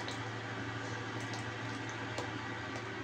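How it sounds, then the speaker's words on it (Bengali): Semolina (suji) simmers in a pot at night, a soft continuous bubbling and liquid burble under a steady low hum, with faint drips and small pops scattered through. "সুজি রান্না করতেছি।"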